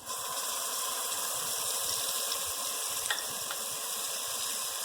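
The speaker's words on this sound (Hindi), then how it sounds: "तो इसे अब हम फ्राई करते हैं 2 मिनट।" Steady, loud sizzling of garlic paste frying in hot oil, a continuous crackling hiss with a few faint clinks, no talking.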